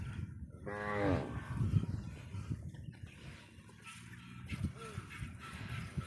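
Cattle on a Padma river sandbar, one animal giving a clear near moo early on and fainter lowing later, while people talk over the herd's noise outdoors.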